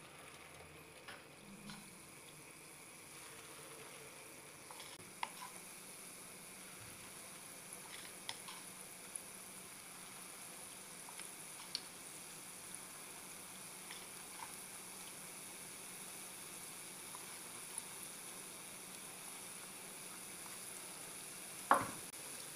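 Spoonfuls of dough fry in hot, clean oil in a frying pan, making a continuous soft sizzle with scattered crackles and small clicks and a sharper clink near the end.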